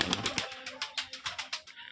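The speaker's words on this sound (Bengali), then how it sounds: "এগুলো হচ্ছে আবলুক কবুতর।" Giribaj and Ablook pigeons coo softly, a quick run of faint, rhythmic throaty pulses close by in a quiet space.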